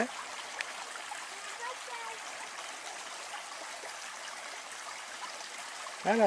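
A shallow, low river with a small dam flows steadily in the background near Chazeau, France, a soft continuous watery trickle with no talk over it until a brief sound at the very end.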